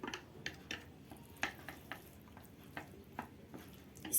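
Samyang 3x spicy chicken noodles being mixed, faint scraping and clicking of a utensil against the bowl in an uneven rhythm, quiet and close with no talking.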